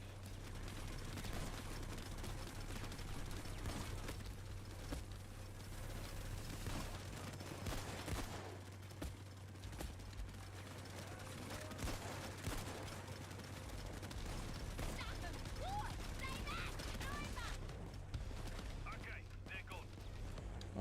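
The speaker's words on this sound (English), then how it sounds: "Peppering it with explosive rounds whenever I can" Explosive rounds fired repeatedly in PAYDAY 2 at a seaside heist, dense bursts of gunfire and booms over a steady low drone, with talk running underneath.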